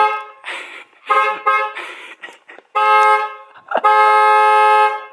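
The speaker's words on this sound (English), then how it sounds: "Are you honking the horn?" A car horn honks outside at New Year's, in repeated loud blasts of varying length, ending in one long sustained honk.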